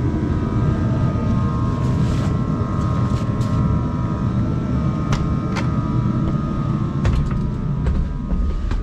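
An LTZ-55A wheeled tractor engine idles steadily in winter cold, a continuous low rumble with a faint harmonic whine and a few brief clicks and knocks over it, close and fairly loud throughout.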